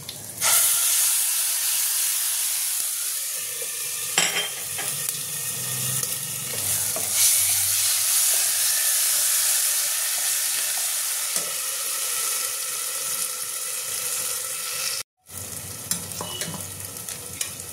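A spice paste for a Bengali prawn curry hits hot oil with mustard seeds in a pan, giving a loud, steady sizzle and hiss with occasional stirring scrapes, close up and with no talking.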